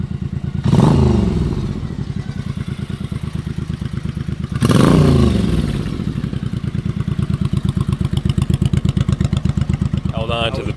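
A 1984 Honda VT700 shaft-drive, liquid-cooled V-twin motorcycle idles with a loud, steady, lumpy pulse close by, rising in two brief revs near the start and middle, while someone talks over it.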